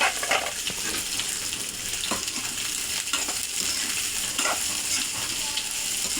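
Chopped onion and green chili frying in oil in a pan after garlic, a loud continuous sizzle with occasional stirring scrapes, close and steady.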